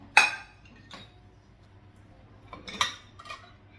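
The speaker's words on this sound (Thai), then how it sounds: "ต้องมาเอาถ้วยเอาไบเครื่องล้างจานก่อนนะคะ" Sharp clinks of bowls, plates and spoons being unloaded from a dishwasher, a few separate knocks and rattles with quiet gaps between them, close by.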